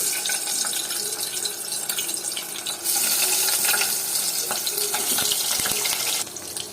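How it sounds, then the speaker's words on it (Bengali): Steamed eggs frying lightly in hot oil: a loud, close, hissing sizzle that surges midway and then eases near the end, with no talking. "এই যে ডিমগুলো হালকা ভেজে নিচ্ছি"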